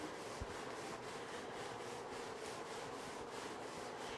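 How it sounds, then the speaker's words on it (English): A manual scrubber works over grout on a tiled floor in quick, even back-and-forth strokes, a continuous gritty scrubbing that stays faint and steady throughout. "Here we have a manual scrubber."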